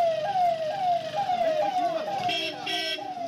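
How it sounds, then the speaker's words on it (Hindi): A siren wails in Shivamogga, Karnataka, amid street tension, in repeated rising-and-falling sweeps, loud and steady, with a second two-tone wail joining near the end over traffic rumble. "सायरन की आवाज गूंजने"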